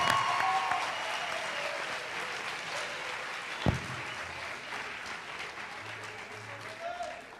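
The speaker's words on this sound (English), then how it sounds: "please give a warm round of applause to welcome the parents of tonight's RLD royalty candidates" Warm applause fills a high school coronation ceremony as candidates' parents are welcomed, continuous broad clapping from a sizeable crowd lasting several seconds, moderately distant, with a single sharper thump midway.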